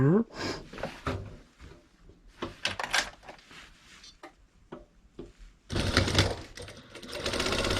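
A sewing machine stitching the side seams of an apron, joining two layers of fabric. A voice talks over scattered clicks and handling noises, then the machine runs in a loud, continuous burst for the last couple of seconds.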